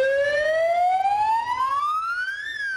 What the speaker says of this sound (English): I'm going to call an ambulance.